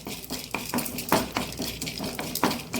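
Chana dal and urad dal fry in a spoonful of oil for an Udupi-style Mattu Gulla sambar, heard as close metallic scraping and clinks of a spoon against the pan over a low hiss, with no talking.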